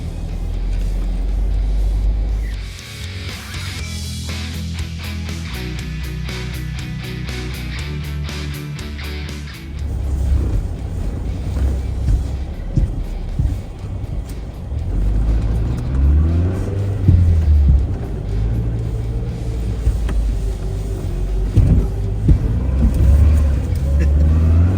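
An old Chevrolet K5 Blazer drives through trees in a snowstorm, its engine a steady close rumble with a brief revving burst early on, while people talk over it.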